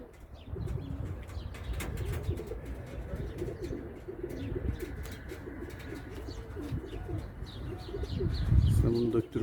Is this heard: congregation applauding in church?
no